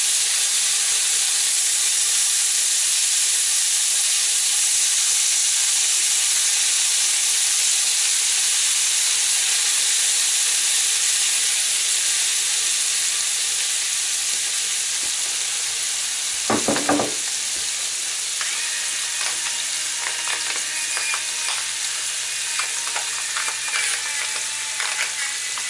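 Shrimp sizzle steadily in a hot pan for keto lemon butter garlic shrimp with asparagus, a loud continuous hiss of frying with a few sharp crackles and stirring clicks partway through, no talking.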